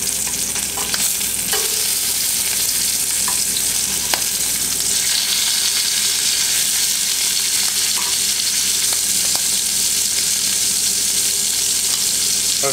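Freshly caught fish sizzling loudly in a frying pan with bacon, just flipped; a steady, dense, close hiss of hot oil runs throughout with occasional small pops and scrapes.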